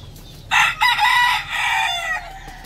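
A fighting rooster from Ángel Santana's line crows loudly and close, one long strained cock-a-doodle-doo that breaks into segments and fades, with faint background noise and no talk.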